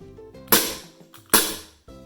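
Two sharp plastic clacks about a second apart come from a Tokyo Marui Glock 17 Gen4 airsoft pistol magazine being handled, close and crisp against quiet background tones.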